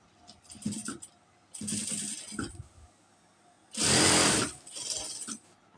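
A sewing machine stitching the shoulder seam of a nighty in short whirring bursts, then one longer, louder run near the end, with pauses between and no talking.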